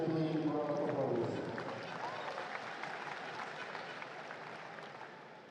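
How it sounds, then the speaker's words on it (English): Crowd applause at a FIBA Melanesian Cup basketball game between Solomon Islands and Papua New Guinea, a broad wash of clapping that stays steady and gradually fades, with an announcer's voice over the start. "Please excuse me the round of applause."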